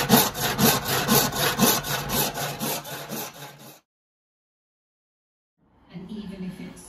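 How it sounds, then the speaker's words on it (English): Handsaw cutting a wooden board to length during a bathroom remodel, a close run of rhythmic rasping strokes for several seconds, then silence, then faint rustling afterward. "So we'll cut the end off it so it's in the right length"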